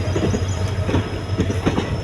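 A train pulls into a station with a close, loud, continuous rumble and rhythmic clickety-clack of the wheels over the rails.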